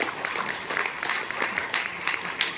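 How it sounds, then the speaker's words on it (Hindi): An audience at a business seminar claps loudly in a steady, dense burst of applause that lasts throughout, with no one speaking over it. "एक बार ताली बजा दीजिए जोरदार"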